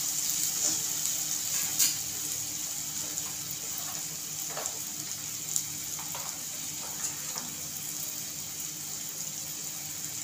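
Chopped onion and tomato for egg bhurji soften in a hot pan, giving a steady close sizzle and hiss with occasional soft pops, without talk.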